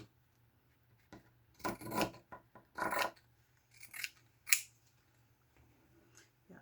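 Scissors snip through paper in a few separate cuts, crisp rasping strokes spaced about a second apart, close and fairly quiet against a low hum; no talking.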